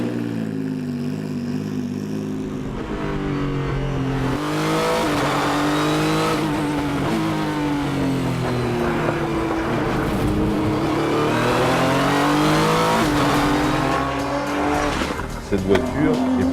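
Renault Sport R.S. 01 race car engine revving hard and close, its pitch climbing and falling in sustained sweeps with tire noise, loud throughout.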